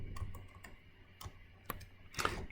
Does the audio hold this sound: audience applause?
no